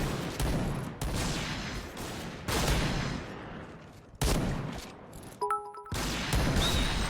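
Gunfire from the first-person shooter Point Blank, a sniper match: dense bursts of shots and impacts in several loud clusters with brief gaps and a short mechanical lull, no talk.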